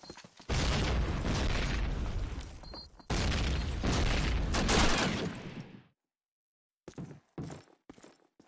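Grenade blasts in a World War II shooter game at night: two loud, booming explosions a few seconds apart, each with a long rumbling tail, then silence and a few sharp, scattered impacts.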